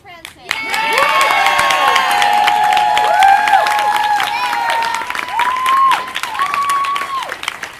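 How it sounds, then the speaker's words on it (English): An audience at a senior farewell show applauds a departing teacher, a steady wash of clapping with whoops and drawn-out cheering voices riding over it, loud and sustained throughout. "we just think everyone should just clap for Dr. Franson."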